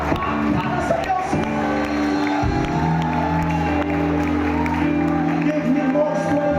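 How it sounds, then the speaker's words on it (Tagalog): A worship congregation claps and cheers during a Pentecost service, a crowd noise with scattered whoops mixed over sustained music tones, fairly loud and continuous. "Palakpak para sa Diyos."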